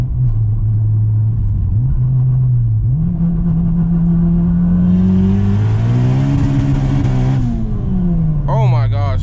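A tuned 600hp Honda Civic Si accelerates hard with wheelspin, its engine drone rising and dipping through loud revs, close and continuous, with a brief chirping squeal near the end.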